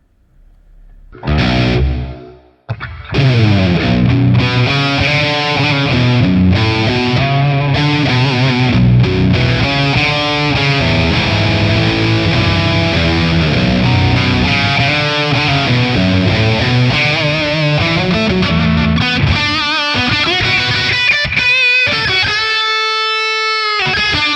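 High-gain electric guitar through a Marshall JCM2000 amp capture with plate reverb, playing loud distorted riffs and chords that sustain throughout, ending on a ringing held chord with a reverb tail, no talking.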